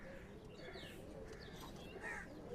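Royal Teddy pigeons coo softly in a low, repeated murmur, with a few faint higher chirps mixed into a steady background hum.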